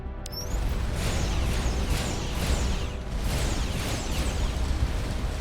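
Repeated cannon broadsides from a starship in the space game Starcom: Unknown Space, a continuous loud roar of blasts and booms about every second, with no talking.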